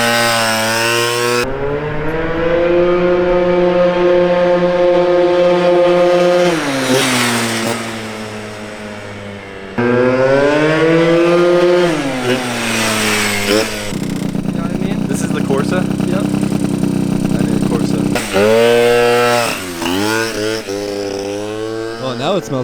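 Derbi GP1 motorbike with a Piaggio engine revving hard nearby, a loud buzzy two-stroke wail rising and falling through several throttle blips with short idle dips between, while people talk over it.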